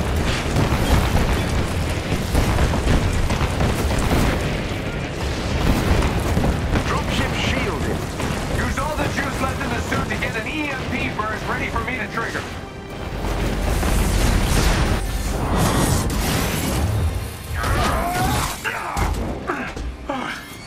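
Artillery shells pound the area in Marvel's Avengers, with heavy booming blasts and rumbling debris rolling through a dense, loud battle mix while voices talk over the action.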